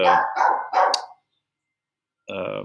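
Dogs at home bark in a quick run of three loud barks, then after a brief silence one more longer bark, all close to the microphone.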